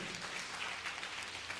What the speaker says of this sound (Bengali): জোরে একবার প্রভুর জন্য করতালি দিই।